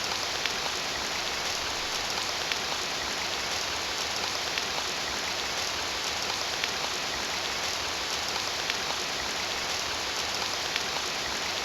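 Steady looping rain from an RPG Maker 2003 game, a dense, even hiss of falling rain with scattered drop ticks and no other sounds.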